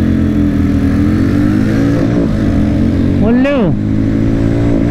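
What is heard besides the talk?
Guerrilla 450 and Mavrick 440 motorcycles accelerating in drag race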